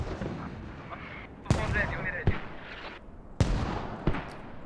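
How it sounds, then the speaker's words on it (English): Explosions in the video game Squad, several sharp booming blasts at irregular intervals, some closer and louder, others more distant, each trailing off into rumbling echoes. "Heard an explosion somewhere."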